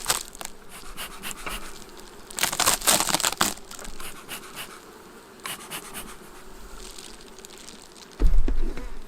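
Honey bees buzz around an open hive during a hive inspection, a steady insect hum with louder bursts of activity and some crinkling handling noise, with no talking.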